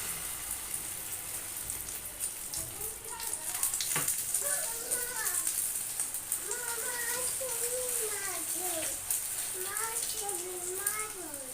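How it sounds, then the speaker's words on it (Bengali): An egg fries on a stove with whole cumin seeds, giving a steady, fine crackling sizzle throughout while a person talks over it. "এবারে আস্ত জিরাটা দিয়ে এবার এই চুলার ভিতরে ডিমটা বসিয়ে দেবো"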